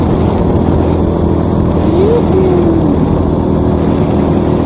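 A loud, rough engine drone runs steadily throughout, an old motorcycle revving slightly with a rising and falling whine, close and continuous.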